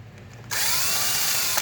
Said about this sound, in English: switch out the drill bit for the countersink